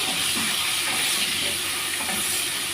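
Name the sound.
stirring potatoes with salt and turmeric in pan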